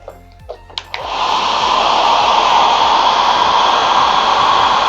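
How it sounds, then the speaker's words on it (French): A hair dryer switches on after a few soft clicks and then blows steadily and loudly, a constant rushing whoosh used to hold a light ball floating in its airstream. "Je prends un sèche-cheveux."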